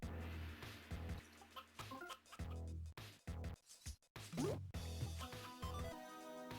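A hen in the game Mother 3 clucks in short, choppy bursts over game music, with a jumble of chiptune-like tones and brief gaps between phrases.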